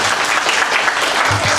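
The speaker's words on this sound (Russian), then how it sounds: "чтобы все аплодировали" Audience clapping at a 2008 joint concert: loud, dense, continuous applause from a hall full of people, holding steady without a break.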